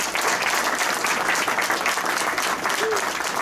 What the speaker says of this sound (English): if we could give Malcolm a round of applause